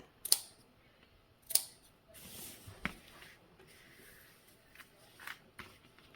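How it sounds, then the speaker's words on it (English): Scissors clip the curved seam allowance of a cap sleeve on a corset jumpsuit, giving several sharp, isolated snips spaced irregularly with quiet handling rustle between them. "I want to go ahead and trim this just a bit and make some clippings in the curved"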